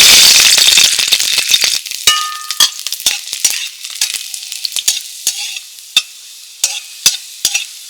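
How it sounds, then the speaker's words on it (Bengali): Garlic frying in a small amount of oil in a wok over a stove, for a Bengali cauliflower-leaf paste dish: a loud initial sizzle that settles into steady crackling, broken by sharp clicks and scrapes of a spatula stirring. "অল্প একটু তেল দিয়ে দিচ্ছি এইবার আমি রসুনটা দিয়ে দিচ্ছি"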